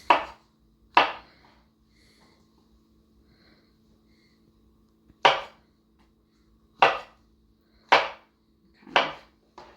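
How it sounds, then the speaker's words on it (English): Knife chopping mushrooms into quarters on a cutting board, six crisp, separate thunks spaced irregularly with quiet gaps between, close and clear with no talking. "cutting them into like quarters or putting shape cuts in them like that"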